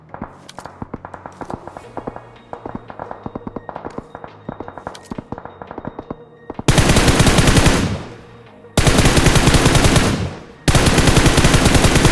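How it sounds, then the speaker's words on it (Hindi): Rapid gunfire in BGMI (PUBG Mobile), from Pochinki: a run of sharp shots, then long, loud bursts of automatic fire that stop briefly and resume, close and dominant. "उतने में पोचिंकी से गोली चलती है"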